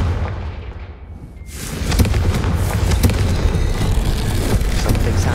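Explosive Confringo spell cast in the Hogwarts Legacy video game: a quiet start, then a loud blast at about two seconds that gives way to a sustained, dense roar of crackling bursts and rumble.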